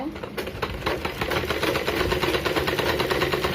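A sewing machine runs steadily, stitching a blouse piece and a cross piece of fabric together in a fast, even mechanical chatter that continues throughout at close range, with no talking.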